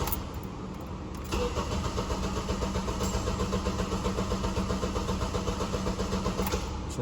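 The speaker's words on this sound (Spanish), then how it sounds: "El motor se escucha bien." A 2009 Honda car with a misfire fault cranks and starts, then settles into a steady running engine, heard close up with no talking.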